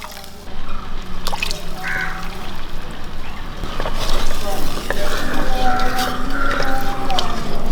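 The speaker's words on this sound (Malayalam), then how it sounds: "നമുക്ക് രണ്ടാം പാൽ ഒഴിച്ചു കൊടുക്കാം" Second coconut milk is poured into a sizzling fish curry with a spoonful of vinegar, giving a loud, rising bubbling sizzle with drips and stirring clinks, close and continuous, with faint background sounds.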